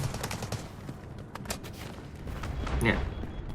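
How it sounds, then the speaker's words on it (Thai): Rapid gunfire crackles through a Delta Force Mobile match, a steady run of close shots over ambient game noise, with someone talking over it. "ยิงปุ๊บยิงต่อเนื่องยิงต่อเนื่อง"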